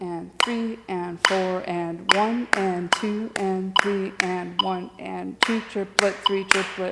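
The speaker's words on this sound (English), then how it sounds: "If you're clapping and counting from 11, it sounds like this." Crisp hand claps beat out a dotted eighth–sixteenth rhythm for a clarinet lesson, each sharp clap landing on a voice steadily counting the beats aloud, close and clear.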